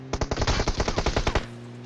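Automatic gunfire in the PUBG Mobile video game rattles off in a fast, close burst of about a dozen sharp shots, then stops abruptly.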